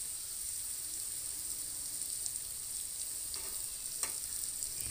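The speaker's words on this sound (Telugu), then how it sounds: "ఇప్పుడు మళ్ళీ మూత పెట్టి ఒక 5 మినిట్స్ ఆయిల్లో మగ్గనిస్తా" Stuffed bitter gourd fries in oil in a covered pan, giving a steady, even sizzle throughout with a few faint crackles and no talking.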